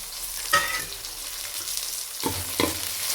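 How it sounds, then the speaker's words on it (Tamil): Tomatoes going into a pan of frying chicken gravy, with a steady sizzle and a couple of soft stirring knocks near the start and near the end. "இப்போ தக்காளி சேர்த்துக்கலாம்."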